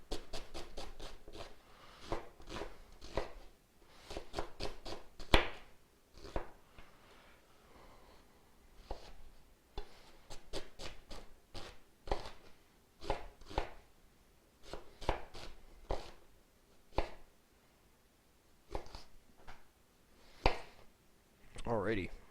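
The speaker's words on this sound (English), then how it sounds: "Julienne of onion, you'd go down this way and make longer strips." A knife slices an onion into half julienne strips for a stir fry, giving a steady run of crisp, close chopping taps on a cutting board with short irregular pauses.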